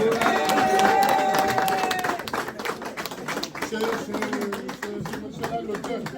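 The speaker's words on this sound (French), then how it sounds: "Applaudissez s'il vous plaît" Guests at an engagement party in Blois burst into brisk, dense clapping that carries on steadily, mixed with crowd noise and voices.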